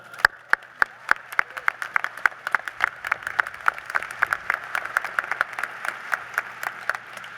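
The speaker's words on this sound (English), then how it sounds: "And they deserve a round of applause for that." Graduation ceremony crowd at Issaquah High School's 2019 commencement breaks into applause, with sharp, close individual claps in a quick rhythm over a wider, fuller wash of clapping from the audience.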